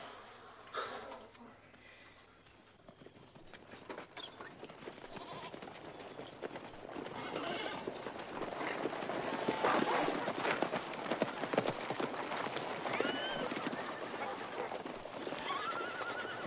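Horses waiting outside a village clip-clop and whinny amid a lively outdoor scene, hooves and neighs growing louder over the second half while people talk and other animals bleat faintly in the background.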